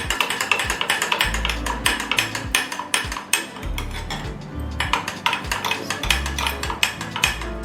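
A spoon clinks and scrapes against a bowl in quick repeated taps while chocolate syrup is stirred into a mango dessert mixture, close up and crisp, with brief pauses between bursts of stirring.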